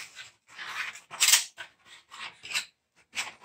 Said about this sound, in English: I have a pair of just regular big garden scissors.